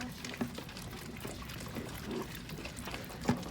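Water poured from a container with its stopper pulled out falls onto soil like rain, giving a soft steady trickle and patter, fairly faint, with a couple of small splashy bumps.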